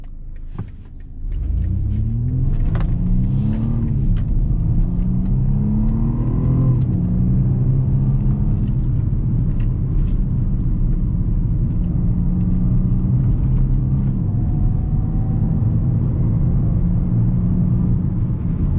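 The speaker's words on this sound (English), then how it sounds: "It can be a little dramatic when it accelerates off." A 2021 BMW M235i Gran Coupe pulls away, heard from inside the cabin as a steady, loud engine rumble that rises through a couple of gear changes and then settles into a constant drone.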